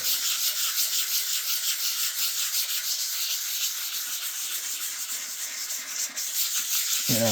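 Wet sanding of a shellac finish on a guitar body, a steady loud rasping rub that runs continuously with a slight back-and-forth pulse, close and alone without talk.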